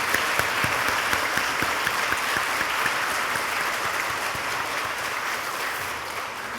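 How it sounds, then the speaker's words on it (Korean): A large church congregation claps together after a choir's hymn in a long, even round of applause that holds steady and tapers slightly at the end. "격려의 박수를 주시면 고맙겠습니다."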